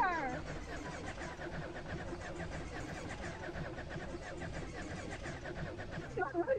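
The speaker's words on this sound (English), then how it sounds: "it is your very own car." A car engine turns over and catches, then keeps running at a steady mid-pitched drone for several seconds with a slight surge near the end, fairly close.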